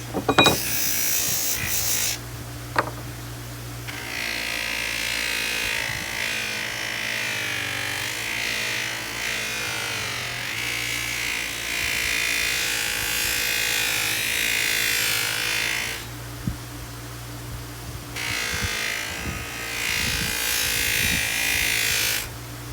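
A power polisher works an old axe head in a steady, loud mechanical whir that runs almost the whole time, with short breaks and a few sharp knocks near the start. No one speaks.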